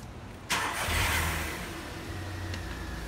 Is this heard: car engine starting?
yes